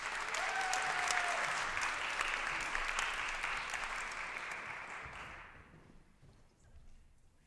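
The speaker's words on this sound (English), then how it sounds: "Can we get a round of applause?" Audience applause for a college president, Clarence Wyatt, as he takes the stage at a student senate event: steady, full clapping from a crowd that holds for several seconds and then fades away.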